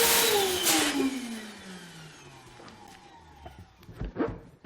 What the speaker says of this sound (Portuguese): Infle este balão de dentro